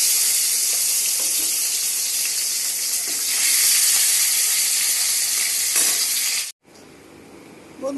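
Fish frying in hot oil in a wok, giving a loud, steady broadband sizzle that swells midway, then cuts off abruptly near the end before a fainter hiss resumes.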